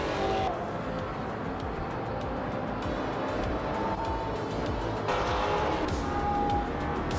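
A 2017 Honda Civic Type R races in a video game, engine noise roaring continuously with rushing road sound, faint tire squeal and other cars passing close by.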